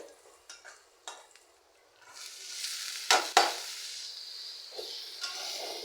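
Bean and potato bhaji of thickly cut flat beans and potato: a few light utensil taps, then a loud frying sizzle swells up with clattering stirring strokes and scrapes.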